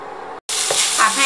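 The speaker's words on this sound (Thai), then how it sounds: "ผัดให้เข้ากันนะคะ" Fried rice with flaked mackerel, red chili and cha-om being stirred in a hot pan, a close, steady sizzle with spatula scrapes after a brief pause.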